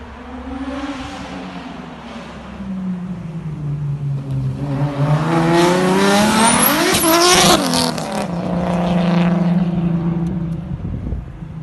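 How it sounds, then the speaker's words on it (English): Boosted BMW M50 straight-six engine in an E36, revving hard with a loud rising and falling roar and turbo whistle, close and continuous, with no talk. "I'll put a little clip in right now of what one M50 boosted sounds like."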